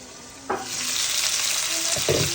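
Chicken tandoori pieces fry in a pan with a constant loud sizzle, broken by a few brief stirring scrapes and clatters.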